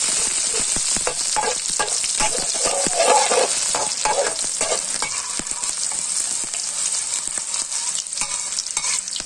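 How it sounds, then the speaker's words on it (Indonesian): Shallots, garlic and onions fry in hot cooking oil for a Thai-style paprik dish, a loud, steady sizzle with repeated scraping and stirring strokes throughout, no voices. "Okey, mula-mula kita masukkan bawang."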